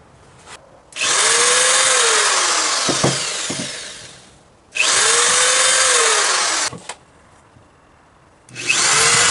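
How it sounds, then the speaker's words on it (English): A power drill whirs loudly in three bursts, spinning up, biting into wood for a couple of seconds, then winding down between runs. "what I like to do is pre-drill with a drill bit"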